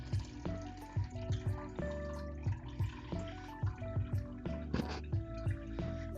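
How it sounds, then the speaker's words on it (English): Lemon juice poured through a mesh strainer into a pitcher, a soft trickling and dripping stream of liquid with irregular splashes over faint background music. "we're going to pour the lemon juice through this so it catches the pulp and any seeds"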